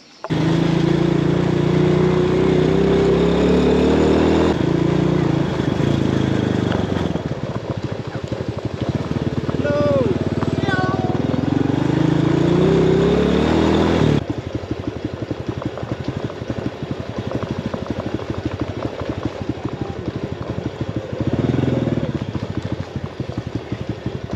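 Motorbike ridden slowly through a small village on the Ha Giang Loop in Vietnam, a loud steady engine drone with wind rumble and shifting tone, persisting the whole time with a brief vocal sound partway through.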